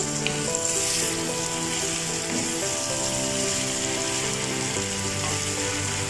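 Cauliflower tossed into hot oil with mustard seeds and spices, dhaba-style aloo gobhi, fries in a pan with a steady, loud, continuous sizzle and crackle throughout, with no voices.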